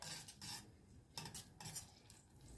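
Quiet, soft scraping strokes of a buttermilk mixture being stirred in a bowl for chipotle mango chicken wings, a few short swishes close by with no voices.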